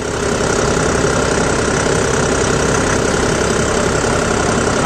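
A new John Deere 5405 CRDI 63 hp four-wheel-drive tractor engine runs at a steady loud drone, a dense continuous mechanical rumble with no change in pace.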